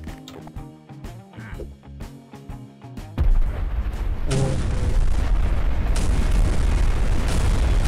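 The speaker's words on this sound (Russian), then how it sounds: "Смотрите, как она в воздухе взрывается, насколько красиво" Game music with percussive hits in Garry's Mod gives way to a sudden, heavy boom of a bomb exploding in midair, followed by sustained roaring blasts and rumbling explosions that fill the rest.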